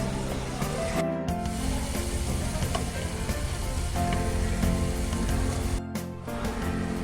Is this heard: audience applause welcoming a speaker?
no